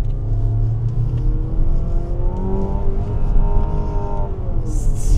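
A Mazda CX-80 engine in sport mode rises in pitch as it accelerates hard, a loud, close rumble with road noise underneath.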